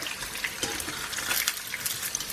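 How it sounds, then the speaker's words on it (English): Eggplant fries in oil with a steady, close sizzle and spattering crackle, and a few bright pops stand out over the constant hiss. "So I'm just going to fry these eggplants for about 5 minutes."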